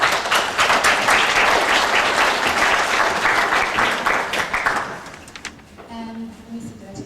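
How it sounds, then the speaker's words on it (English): A class audience gives sustained applause for an administrator, dense and steady for about five seconds before tapering off, with a voice speaking faintly at the end. "let's give her some applause."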